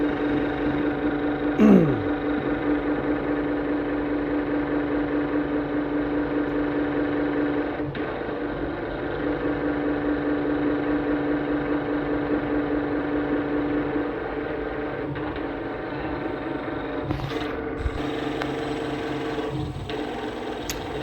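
A Hilco UltraMax honey extractor runs at full power, giving a steady, continuous motor hum and whir with faint ticking throughout, close and constant with no breaks.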